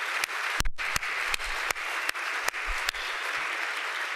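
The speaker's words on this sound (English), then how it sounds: "Please join me in giving another round of applause for all of our students that participated in the pre-program performances." Applause from a ceremony audience for students fills the room, continuous clapping from a crowd punctuated by several sharp, louder claps close by.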